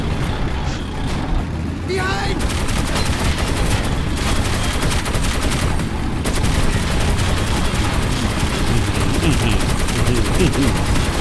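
Metro 2033 Redux gunfire: dense, continuous automatic shooting at steady high loudness throughout, layered with rumbling combat noise and someone talking over it.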